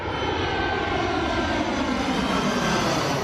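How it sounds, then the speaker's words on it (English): A fixed-wing airplane landing at a Rhode Island airport in dense fog, its engine a steady, loud broadband roar that holds constant throughout with no voices. "One of the lucky planes to land today, visible in the Rhode Island sky for just a matter of moments"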